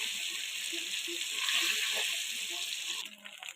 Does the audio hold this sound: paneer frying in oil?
yes